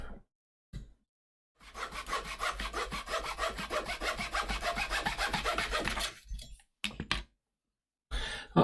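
Rapid, rhythmic back-and-forth strokes of a small hand saw cutting wood for a 1:200 Prinz Eugen wooden model ship fairing, close and crisp, in one steady burst between quiet pauses.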